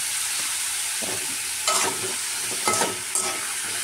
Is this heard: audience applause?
no